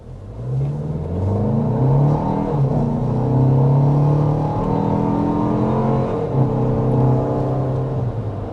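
A 2026 Toyota Grand Highlander's turbocharged four-cylinder engine pulls hard under acceleration, a loud, close, rising drone with stepped pitch climbs and shifts, steady throughout with no talking.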